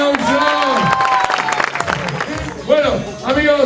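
An audience claps and cheers at a live party show, loud and close, in bursts that fade and swell again, with a host's voice talking over it.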